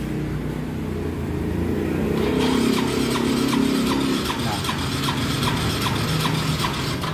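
A Yamaha Soul GT 125 scooter with a hard-starting fault is cranked: a low mechanical hum, then about two seconds in a rapid, even clicking-whirring starter rhythm continues, loud and close, with no clear catch of the engine.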